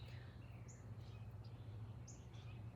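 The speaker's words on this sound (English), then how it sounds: "So that's what that shrieking noise is a red-winged blackbird." A red-winged blackbird gives brief, high shrieking calls at a distance. Two or three thin cries rise above a steady low hum of background noise, and no one speaks.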